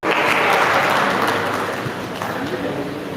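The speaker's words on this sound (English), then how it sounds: "Why are we not clapping for him now?" An audience at a World Laboratory Day event breaks into loud, dense applause that begins abruptly, swells, then eases slightly while staying strong, with some voices mixed in under the clapping.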